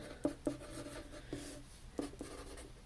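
Pen or pencil writing on paper, with short scratchy strokes in separate bursts and pauses between words, close and quiet, with no voices.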